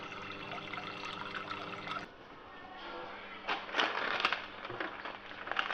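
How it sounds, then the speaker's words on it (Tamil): Tap water runs into a cooking pot being filled to boil pasta, a steady rushing and splashing flow that changes pitch partway through as the pot fills, close and fairly loud with no talk. "நல்ல தண்ணியை பிடிச்சிக்கிட்டு அதில் பாஸ்தாவை வேக வைப்போம்."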